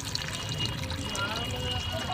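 Waste water pours out in a steady stream after washing chicken neck pieces, with voices talking over it.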